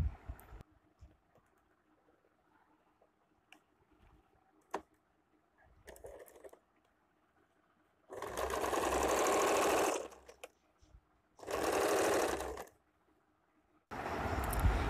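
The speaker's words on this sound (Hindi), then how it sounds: "इस तरह से सिलाई लगा लेना है सीधा करके" A sewing machine stitches a sleeve lining in three loud bursts of running, separated by pauses and preceded by quieter handling clicks.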